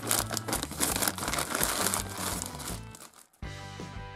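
A parcel's plastic packaging being torn open and handled, with close, loud crinkling and rustling for a few seconds, then a short sharper crackle.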